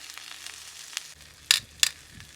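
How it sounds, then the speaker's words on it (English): Smoked tri-tip searing in a pan makes a faint, low hiss throughout, broken by two short, sharp clatters near the middle. "So we'll sear over here for about another minute too"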